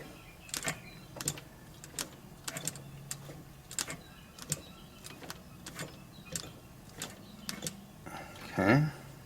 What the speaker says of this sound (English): I'm not using the pedal because this machine was designed for fast sewing